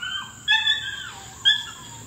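A young Orange Roan pup gives two short, high whimpering yelps, close by and fairly faint, over quiet outdoor background.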